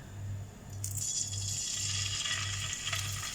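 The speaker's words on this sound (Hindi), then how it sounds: "अब हम ये फ़िश को फ्राई कर लेंगे।" King fish pieces shallow frying in oil, a steady soft sizzle with a bright crackling hiss that swells after the first second, close and continuous, over a faint rhythmic low hum pulsing in the background.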